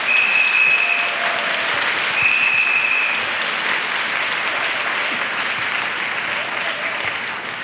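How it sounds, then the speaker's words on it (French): A large crowd at a church missionary send-off claps continuously, a dense sustained wash of applause that holds steady for several seconds. "Clap for Jesus."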